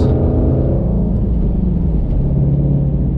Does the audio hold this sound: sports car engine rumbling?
yes